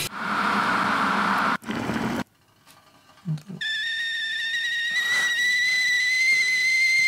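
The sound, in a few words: kettle whistling sound effect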